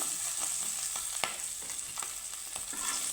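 Tangra fish fry in hot oil, giving a continuous bright sizzle and bubbling with a few scattered crackles and spatula taps, close but fairly soft, and no voices.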